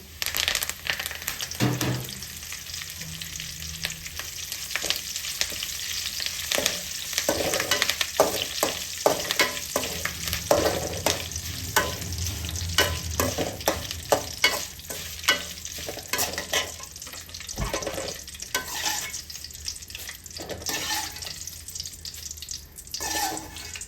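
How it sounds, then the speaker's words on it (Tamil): Curry leaves, about ten grams, frying in hot oil for kaara boondi, giving a steady crackling sizzle with stirring and occasional scraping and clatter from the pan, no talk. "இப்போ இதை கறிவேப்பிலையை வறுத்து வச்சுக்கலாம்"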